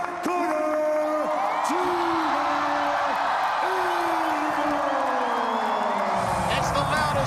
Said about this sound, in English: it's the loudest crowd pop of Gina Young's career